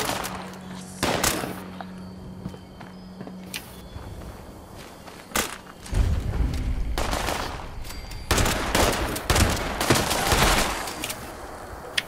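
Gunfire in the Fallout 76 video game inside Big Bend Tunnel, with scattered single shots and sharp bursts of rapid fire mixed with footsteps, some blasts loud and close, others lighter.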